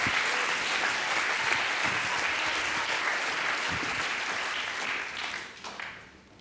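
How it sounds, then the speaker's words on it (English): A seated audience at a live comedy performance claps in sustained, dense applause that holds steady, then thins and fades out near the end, with no speech over it. "Give them a big round of applause."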